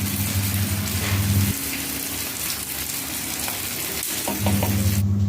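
Herbal hair oil with torn betel leaves bubbling and sizzling in a pan while being stirred, a loud continuous crackle with a low hum that drops out midway and returns, no talk.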